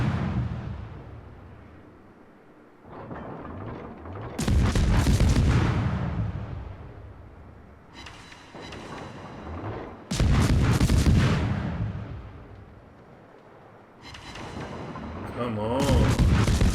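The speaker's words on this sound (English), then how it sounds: "I'm going to have to do this with guns." Naval guns on an Italian tier 7 premium destroyer, the FR 25, fire in World of Warships, with heavy booming salvos recurring every few seconds and loud rumbling decays between them.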